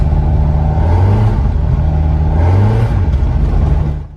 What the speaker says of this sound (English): even the slightest acceleration causes the engine to rev freely, as if the gearbox was in neutral